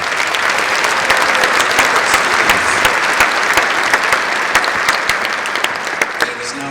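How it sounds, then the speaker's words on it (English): A graduation audience gives a long, steady round of applause for student commencement speakers: dense crowd clapping, full and continuous for nearly seven seconds with occasional sharper claps standing out. "One more round of applause for our"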